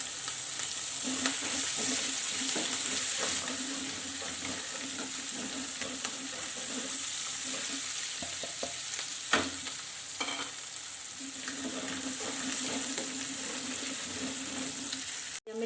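Green chilies fry in a hot tempering of cumin seeds and asafoetida, giving a steady moderate sizzle with occasional stirring scrapes and clinks.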